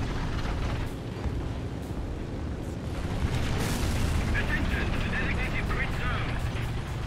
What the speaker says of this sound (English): Someone seems to be firing from there.